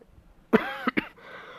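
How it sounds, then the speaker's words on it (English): A single harsh cough followed by a second, shorter cough, close and loud, with a faint breath trailing after. "I have a sore throat and I have a cough."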